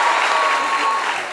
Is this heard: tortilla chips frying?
no